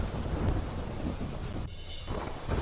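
Heavy downpour in Gujarat pours down with deep, rolling thunder rumbling underneath; no voices are heard.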